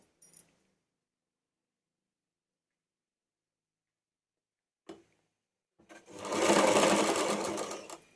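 A sewing machine stitches the shoulder seams of a high V-neck collar blouse in one steady whirring run of about two seconds near the end, after a couple of faint handling clicks and long silence.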